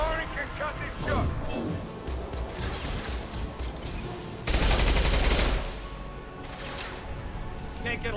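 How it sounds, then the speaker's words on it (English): A concussive shot fires during a Mass Effect 2 boss fight: a loud, dense broadband blast about a second long rising out of steady battle noise, with combat chatter and voices running through the rest. "Firing concussive shot."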